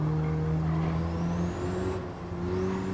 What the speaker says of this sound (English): You can hear the understeer.